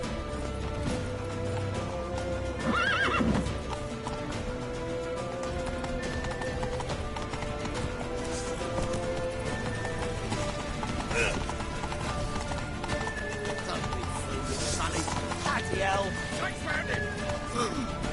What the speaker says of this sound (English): Lead your horse!